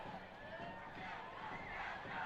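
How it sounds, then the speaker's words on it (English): Loud student section crowd cheering and yelling at a Grants Pass high school football game against Summit, a steady roar of voices lasting throughout. "You hear the Grants Pass student section. They are loud."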